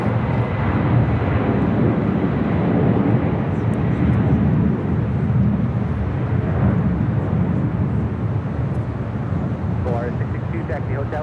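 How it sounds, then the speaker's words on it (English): An Atlas Air Boeing 747-400 freighter departing Los Angeles for Seoul: a sustained deep jet engine rumble and roar, fairly loud and steady, with a voice speaking over it. "This is Atlas Air Flight 531 departing to Seoul on a 747-400 freighter."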